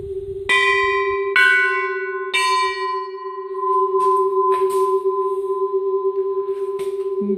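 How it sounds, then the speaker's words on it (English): Cylinder bells are struck one after another, three ringing strikes whose clear, sustained tones overlap and hang in the air before slowly fading. "since the second bell, this bell here, is longer, it has a deeper tone"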